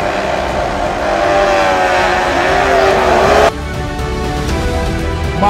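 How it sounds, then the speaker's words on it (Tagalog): Race motorcycles at Clark International Speedway scream up to full throttle off the start, a loud close engine roar that climbs steadily in pitch and then cuts to a slightly lower, continuing drone. "Ready for lights out, and the full twisting of the throttle is going to happen."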